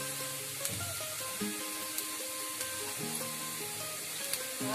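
Onion added to a pan of roasted garlic for Malvani-style alu bhaji sizzles steadily and close, with occasional scraping stirs and light clicks over the constant frying hiss.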